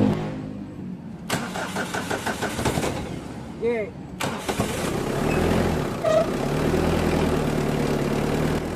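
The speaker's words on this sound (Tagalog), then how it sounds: "Kaya ipa-start ko na itong makina kay customer" A Mitsubishi Adventure engine with hard starting, misfiring and overheating problems cranks and catches, then settles into a loud, steady running rumble close by, with voices talking briefly in the background.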